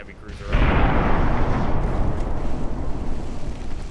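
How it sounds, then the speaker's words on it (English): Naval guns firing a heavy cruiser broadside in the Ultimate Admiral: Dreadnoughts game, a sudden loud boom that rolls into a long, rumbling decay, with a voice talking over it. "Let's just have all guns fire on the heavy cruiser."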